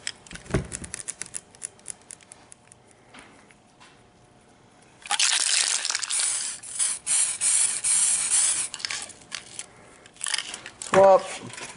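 DuraCoat aerosol spray hisses in several bursts while coating a gun, quiet handling clicks first, then a long loud spray spell and shorter follow-up blasts.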